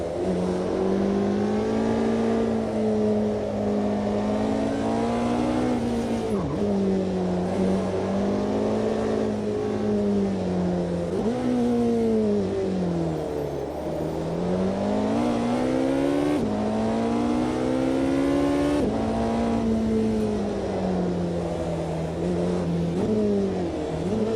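A Porsche 918 hypercar driven on a California highway in the racing game Automobilista 2, its engine droning steadily and loudly with rising and falling pitch through gear changes, close and continuous with no talk.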